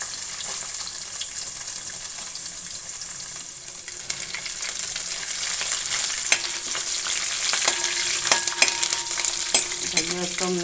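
Coconut pieces fry in a pan for a Kerala bean stir-fry (payar mezhukkupuratti): a steady, close sizzle with occasional scraping and stirring clatters that grow busier toward the end.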